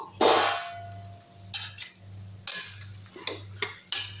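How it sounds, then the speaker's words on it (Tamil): A spoon stirs and sautés tomato rice masala in a pan, giving loud metallic clangs and scrapes at uneven intervals over a low steady hum, close up, with no talking. "இப்போ வதங்கிருச்சான்னு பார்ப்போம்"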